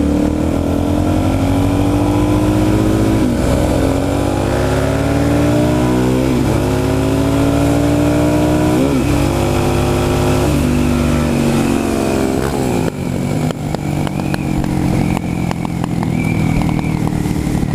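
A 2017 Suzuki DRZ400SM supermoto's single-cylinder engine revs loud and close, climbing repeatedly through gears with rising whines and brief dips at each shift, then settling into a rougher drone near the end.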